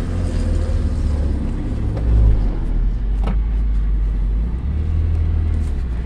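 A 2003 Toyota MR2 Spyder's engine runs steadily with a deep, continuous low rumble, close and fairly loud, swelling briefly midway; no one speaks.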